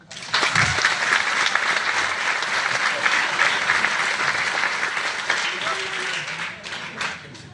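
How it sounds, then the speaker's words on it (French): Sustained audience applause fills the room at an awards evening, dense steady clapping from a crowd that carries on for several seconds before starting to thin out near the end. "le moment est arrivé de t'applaudir encore"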